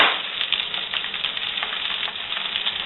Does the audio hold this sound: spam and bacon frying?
yes